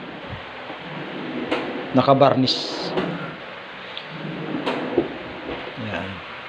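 A drawer built into the space beneath a staircase in a home slides open and shut, a brief wooden rattle and knock partway through, with someone talking over it.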